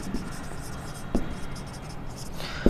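Pen or marker writing on a surface during a class lesson, soft scratchy strokes and a couple of light taps, close but faint against a steady background hiss.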